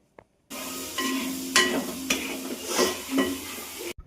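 Ground cashew paste is poured over onions in a hot pan for a Kerala chicken mulakittathu, a loud sizzle that erupts after a short pause and is stirred in several scraping bursts before cutting off.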